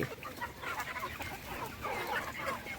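Free-range country chickens on a rain-flooded farm cluck softly and repeatedly, several birds overlapping in short bursts, fairly quiet and close with rain-like hiss in the background.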